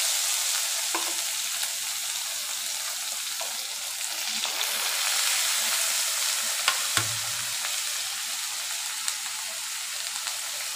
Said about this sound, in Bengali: সব সবজিগুলো একটু নুন হলুদ দিয়ে একটু ভাজা ভাজা করে নেব।